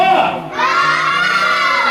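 A group, with children's voices among them, shouts together in unison at a birthday gathering, loud and close, rising into one sustained collective yell.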